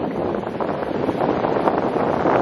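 Strong wind buffets the microphone on a cold, nearly deserted sea beach, a loud, steady roar with continuous gusting rumble and no voices.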